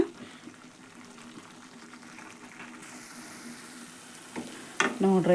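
Gram flour jhunka mixture bubbles in oil with a low, steady sizzle and simmer, then a few louder stirring and scraping sounds near the end, close by and with no talking.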